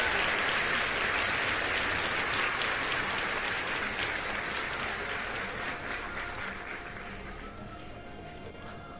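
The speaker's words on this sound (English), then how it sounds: "I gave you too much clap." An applause sound effect played by a streamer, a dense burst of many hands clapping that fades gradually over several seconds.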